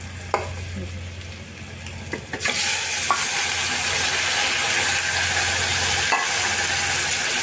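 Chicken frying with onion in a pan, a steady loud sizzle that swells and holds after a few clinks of stirring at the start.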